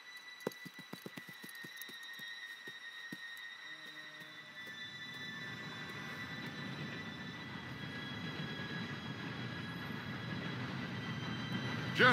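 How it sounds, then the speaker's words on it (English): A train pulls in within the game Red Dead Redemption 2, opening with sharp metallic clicks and wheel squeal, then a rising rumble and hiss as it rolls closer. "Train should be here any minute now."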